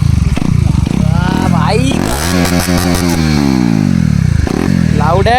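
A KTM Duke 250 motorcycle engine runs with its exhaust removed, loud and raw, revving up in a rising and falling sweep before settling back to a rough idle, with someone talking over it at the start and end.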